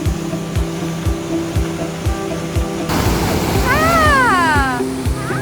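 The waterfall at Ashgill Force rushes as a steady, loud roar of broadband noise, with regular low thumps underneath and a few rising whistle-like chirps appearing late.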